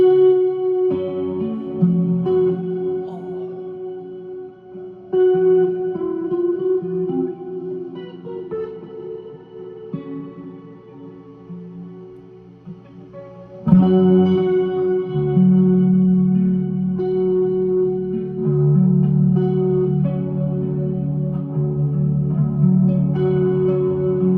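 Guitar run through a chorus and reverb effects unit, sustained shimmering chords and single notes ringing out with wide echoing tails, played alone with no talking, growing fuller and louder about halfway through.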